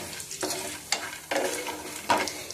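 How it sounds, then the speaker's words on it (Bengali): Bori (lentil dumplings) and cumin fry in a pan for a snake gourd curry, with three distinct scraping stir strokes cutting through a steady, close sizzle. "দেখুন, বড়িগুলো খুব সুন্দর ভাজা হয়ে গেছে,"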